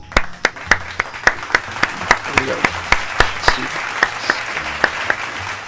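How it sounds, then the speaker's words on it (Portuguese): Steady, evenly spaced handclaps keep a quick regular rhythm, close and crisp, with faint murmuring underneath. "merece salve de palmas"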